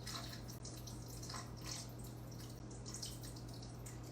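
Water trickles and drips steadily as it is poured carefully into a jar of sourdough starter, a quiet, close sound over a low constant hum.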